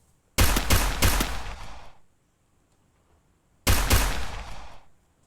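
Two separate bursts of rapid MP-40 submachine gun fire from a Free Fire custom match, each a loud rattling string of shots lasting about a second and a half, with a quiet pause between.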